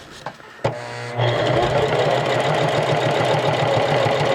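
A sewing machine stitches a pocket cloth diaper, running in a steady continuous drone after a few brief clicks and a short start-up burst, close and fairly loud.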